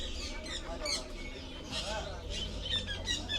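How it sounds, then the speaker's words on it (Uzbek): Birds at the Qoraqamish bird market squawk and chirp in short, sharp calls scattered through a busy, faint background. "Xullas mana noyob ajoyib qushlar."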